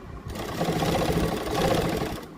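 A sewing machine runs steadily for a couple of seconds, a close, even mechanical whir and rapid stitching patter as an invisible zip is sewn onto a kurti.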